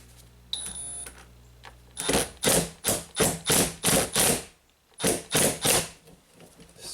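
A jaw puller is tightened on a stuck Subaru rear wiper arm, giving a run of about ten rhythmic ratcheting clicks, close and fairly loud, with a short pause before the last few.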